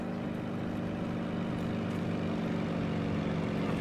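Steady, fairly loud engine drone of a German Ju 88 plane in an Arma 3 World War II game set in Poland, 1942, a continuous low rumble holding at even strength throughout with no talk over it.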